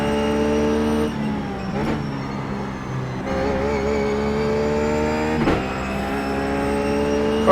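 A Ruf GT3 race car laps Brands Hatch in the iRacing sim, its engine a loud, continuous harmonic drone that drops sharply on a few gear changes and rises again as it accelerates.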